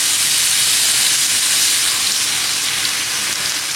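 Water poured onto meat stuffing frying in a hot pan sets off a loud, dense hiss of sizzling and steam, strong from the start and easing slightly toward the end.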